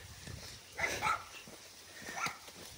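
Dogs bark outdoors during soil sampling in the field, a couple of short bark clusters at moderate distance over a light windy background, with no speech.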